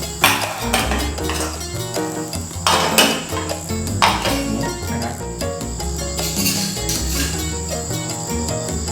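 A metal lid clanks shut on a hot khanom thang taek baking pan full of cooking batter, giving a few sharp, close metallic knocks over a faint steady sizzle and kitchen clatter.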